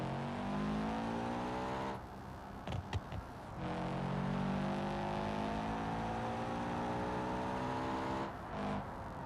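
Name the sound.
turbocharged car engine blowing in a video game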